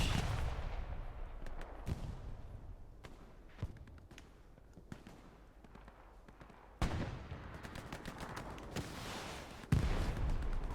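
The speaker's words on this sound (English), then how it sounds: "Grenades going out from Orange." Grenade explosions in the World War II shooter Hell Let Loose during a competitive console match, heavy booms landing at intervals over a constant battlefield rumble, with a few sharp distant cracks of gunfire between the blasts.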